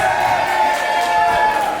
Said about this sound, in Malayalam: So big clap to her. നല്ലൊരു കൈയ്യടി പ്ലീസ്.